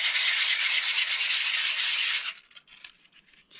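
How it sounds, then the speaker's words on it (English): Two pieces of 120-grit sandpaper are rubbed together, giving a loud, close, rhythmic raspy scratching that stops abruptly partway, followed by a few faint brushing scuffs. "getting two bits of 120 and just rubbing them together slightly"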